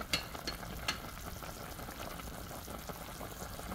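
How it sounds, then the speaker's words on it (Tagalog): Chicken soup with chayote bubbling hard in a pot on a home stove, a constant low rumbling boil with occasional brighter pops and splashes, steady and close but quiet. "Ayan, kulong-kulo. Kulong-kulo siya."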